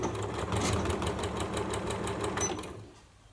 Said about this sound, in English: you're just going to sew a straight line across on all 4 sides